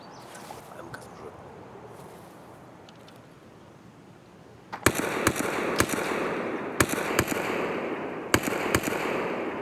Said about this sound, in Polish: Ze snajper górki walą tutaj do skabu.